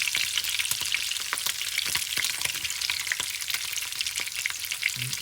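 Cretan xithato loukaniko sausage fries in a pan with a steady, close crackling sizzle and frequent sharp pops of spattering fat, continuous and alone with no voices.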